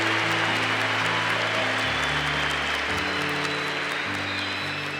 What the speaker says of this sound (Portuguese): Vamos aplaudir os nossos familiares também,